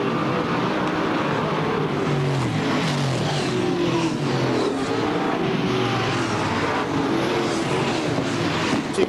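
Several super sedan race cars roar around an oval speedway at Archerfield, a dense, continuous engine drone with overlapping pitches rising and falling as the pack runs off the turn, loud throughout with no talk.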